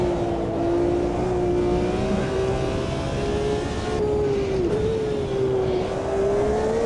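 A race car engine in the sim racing game Automobilista 2 holds a steady, loud drone with a rising and falling pitch through gear changes and throttle lifts, heard alone and close without talk.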